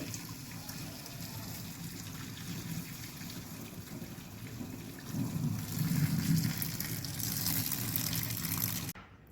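Water is drained off boiled potato slices as a faint, steady pouring trickle. It grows louder for a couple of seconds midway, then cuts off abruptly near the end.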